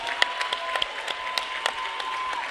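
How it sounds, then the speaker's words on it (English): Applause from a crowd at a high school boys wrestling meet against Oak Harbor, honoring the two officials; steady, fairly distant clapping with a few sharper nearby claps, continuing evenly throughout. "Let's give them a round of applause"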